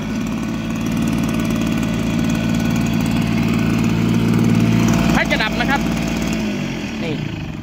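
Small engine of a rice seed broadcaster running steadily at idle, loud and close, with a low continuous drone and a brief clatter near the end; a person talks over it.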